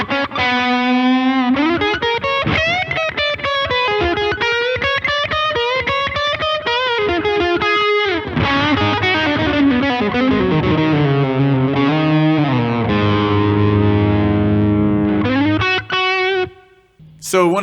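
An electric guitar run through an Echoplex EP3 tape delay set for short slapback plays distorted, sustained melodic lines and chords with a doubled echo, ending as the sound winds down.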